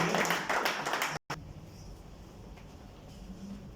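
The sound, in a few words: audience applause for a singer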